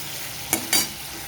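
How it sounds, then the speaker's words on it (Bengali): Tomato and spices for an okra curry are sautéed in a pan, a faint steady sizzle cut by two quick spatula scrapes close together in the middle, with no talking. "এবার আমি খুব ভালো মতো কষিয়ে নেবো"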